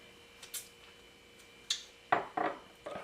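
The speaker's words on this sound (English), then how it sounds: "I'm gonna mix this all together" Spoon or utensil knocking and scraping in a bowl while peanut butter energy ball ingredients are mixed together; a few sharp clinks and scrapes spaced irregularly, fairly close, with no talking.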